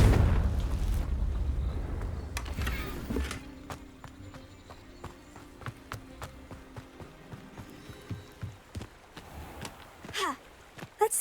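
A Confringo blasting spell going off in Hogwarts Legacy, a loud booming burst at the start that fades into scattered crunchy debris and footstep-like clatters, with no talk.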